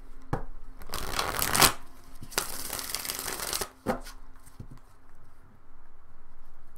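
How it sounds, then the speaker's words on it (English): Tarot cards being shuffled up close: two bursts of rapid riffling flutter, then a few taps and soft handling sounds. "Give it one more shuffle"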